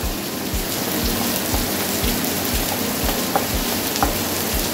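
Onions frying in a pan until translucent for a kosumalli side dish, a steady close sizzle with crackling spits, alone and without talk.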